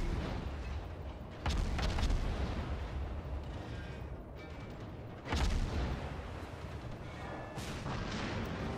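Heavy naval guns firing in World of Warships, deep booming salvos at about 1.5 and 5.3 seconds over a constant rumble of battle noise and engine drone.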